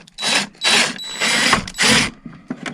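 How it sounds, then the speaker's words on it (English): A power driver tightens a screw into a MrCool DIY minisplit's metal fin housing, joining it to the plastic rear housing, in four or five loud whirring bursts close by with short pauses between. "now you're doing the back screw? The back top screw."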